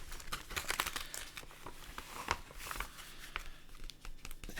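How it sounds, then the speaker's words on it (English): A plastic bag crinkling around a vinyl record, with quiet, close crackles and rustles in irregular bursts against a soft background. "Take it out the plastic bag."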